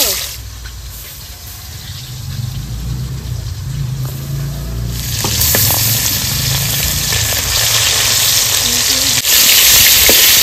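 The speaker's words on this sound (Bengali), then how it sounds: "হ্যাঁ মাছ ভাজবে আগে ডিম ভাজতে হবে" Pakal fish and egg frying in a pan: a low bubbling at first, then a loud, steady oil sizzle that swells and stays close, with faint voices underneath.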